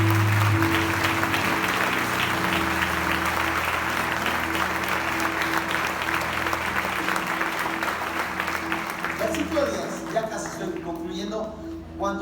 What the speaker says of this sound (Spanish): ¿Le puedes dar un fuerte aplauso al Señor Jesús?